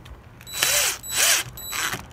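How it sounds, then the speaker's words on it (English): A drill with a 7/64 bit bores a pilot hole for a screw during a doorbell installation, sounding as three short close whirring bursts with brief pauses between them. "put it on my drill, just to make it easier to set the screw and do a little pilot hole"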